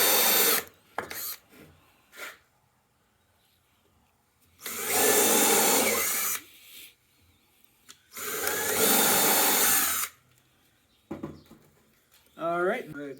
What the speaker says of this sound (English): Pilot holes aren't absolutely necessary, they just make assembly a little bit easier.